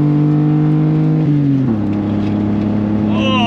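Daihatsu budget car's engine straining as it accelerates during a race, a steady droning tone that shifts down in pitch partway through, heard from inside the cabin with a voice talking over it.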